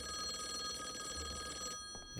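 An old-style telephone bell rings in Call of the Elder Gods, a continuous bright metallic trill heard up close that cuts off near the end, leaving faint background sound.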